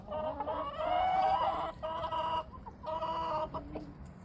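Farm chickens clucking close up in a few loud, choppy bursts with short pauses between, bright and chattering, with no talk over them.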